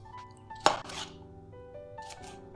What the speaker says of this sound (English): So just chop them now into just small chunks like this.